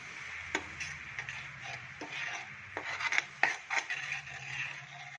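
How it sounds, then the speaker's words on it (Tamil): Indian gooseberry pulp being stirred into boiling jaggery syrup for homemade jam, a spoon rasping and scraping against the pan in irregular strokes with occasional sharper knocks, close and fairly quiet, no talking. "போட்டு நல்லா கிளறணுங்க. நல்லா ஒன்றோட ஒன்றா மிக்ஸ் ஆகிற மாதிரி நல்லா கிளறணும்."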